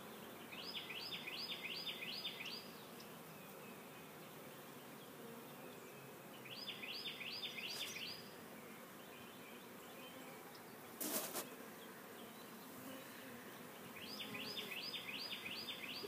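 Bees hum in a low, steady drone near a hive, with a few wing flutters rising briefly above the buzzing, then fading.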